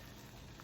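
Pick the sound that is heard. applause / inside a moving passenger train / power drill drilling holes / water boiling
water boiling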